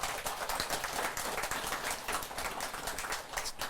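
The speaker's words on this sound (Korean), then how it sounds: "박수 쳐주세요" Applause from an audience at a Buddhist lecture, a steady, moderately distant patter of many hands clapping for a few seconds without talk.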